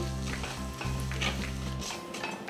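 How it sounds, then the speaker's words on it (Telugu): Two teaspoons of cumin seeds sizzle in hot oil in a pan for jeera rice, a steady close crackling hiss with faint utensil scrapes and no voices. "జీరా ఫ్లేవర్ రైస్ కదా, అందుకని 2 టీ స్పూన్స్ జీలకర్ర వేసుకుంటున్నాను"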